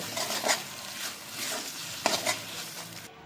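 Mashed eggplant bharta being stirred in a pan with a little raw oil, soft frying hiss with a few scraping strokes of a spoon, close and fairly quiet, no voices.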